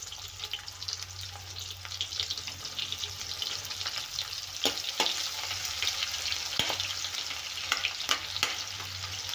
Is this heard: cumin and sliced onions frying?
yes